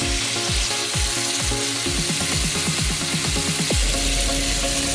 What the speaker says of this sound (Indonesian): Kita menunggu sambil mendidih.